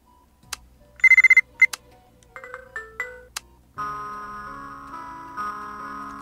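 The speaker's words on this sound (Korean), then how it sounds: "검은 방 벨소리다." A phone ringtone from the video game Buried Stars plays as a set of sharp electronic chimes and beeps, followed by a sustained melodic synthesized ring, clean and close with no talking.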